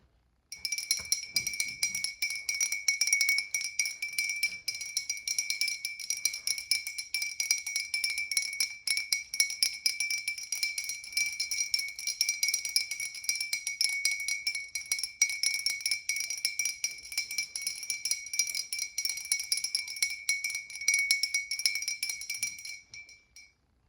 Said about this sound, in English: let me take the gnome bell